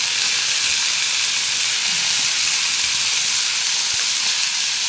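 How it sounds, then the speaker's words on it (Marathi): Washed fenugreek greens drop into hot oil with chili and garlic, giving a loud, steady hiss and sizzle that fills the whole stretch without talk. "त्यानंतर ही धुतलेली भाजी ना आपण ती टाकून घ्यायची।"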